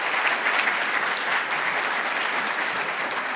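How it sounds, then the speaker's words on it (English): An audience applauds panelists at an event on bank regulation, dense steady clapping that fills the whole moment without a break. "please join me in giving a round of applause to these panelists"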